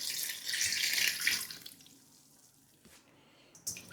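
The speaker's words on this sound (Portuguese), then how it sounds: "Vamos deixar de molho. É só cobrir com água." Water runs from a kitchen tap into a bowl to cover cut eggplant for soaking, a fairly loud hissing stream for about a second and a half, then quieter trickling and small clinks.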